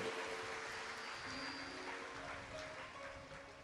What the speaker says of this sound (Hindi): एक बार पूरे वीरगंज वासियों के लिए जोरदार ताली बजाएं